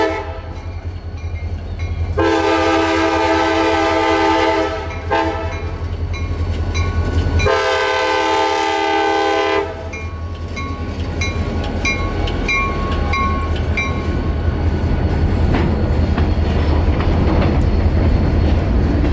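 A CSX freight train near Tampa Bay rumbles steadily toward a road crossing, its horn sounding two long blasts, then wheels clatter on as the train keeps rolling by nearby.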